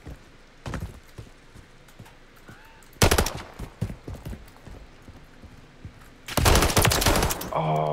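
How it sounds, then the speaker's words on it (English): Gunshots from a shooting video game come in separate bursts, a short volley early on, then louder sustained fire around the middle and again near the end, over a quiet background. "I kept shooting"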